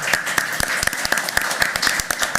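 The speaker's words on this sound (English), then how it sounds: "they'll give you a clap" Sparse, distinct claps at a county board of commissioners meeting, each sharp hand strike standing apart in an uneven rhythm, suggesting a small group clapping for a gas company representative.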